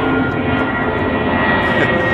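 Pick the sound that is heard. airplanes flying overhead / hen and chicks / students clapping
airplanes flying overhead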